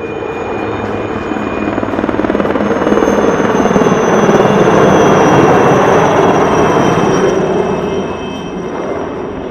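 Helicopter flying at an outdoor military air show, a loud steady rotor roar that swells in the middle and eases slightly toward the end, with no voices.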